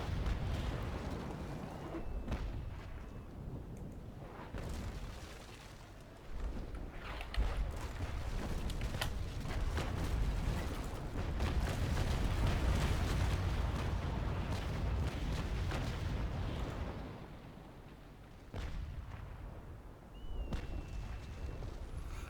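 Broadsides from sailing warships in the Naval Action game, including the Santisima, a large first-rate ship: repeated rumbling cannon shots and distant booms that roll on steadily, fairly faint overall.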